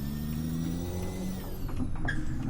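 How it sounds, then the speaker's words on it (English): A truck's diesel engine hums low and steady in Euro Truck Simulator 2 while hauling flour, a constant close drone with slight pitch shifts and brief mechanical clicks near the end, no talking. "It has a nice sound, this truck,"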